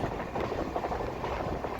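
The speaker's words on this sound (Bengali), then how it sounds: "ট্রেনে চেপে পড়েছি আমরা দুজনা।" A moving passenger train on the way to Howrah gives a continuous loud rumble with rhythmic rattling from the carriage, heard from inside the coach with no talk.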